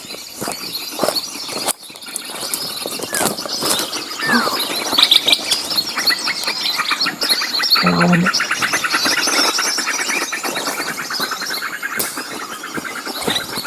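A ketilang mas bird, just caught on a sticky lime snare in a forest, gives scattered high chirps amid close rustling, handling noise and ambient clatter.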